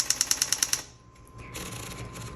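Rapid X's typed on a Smith Corona Coronet Automatic 12 electric typewriter: seven crisp, evenly spaced key strikes close up, then a quieter mechanical whir and hum.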